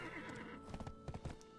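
Horse hooves clip-clop on the ground in the Black Desert Online game, a quick run of distinct hoofbeats over a faint steady background, with a brief whinny-like tone early on.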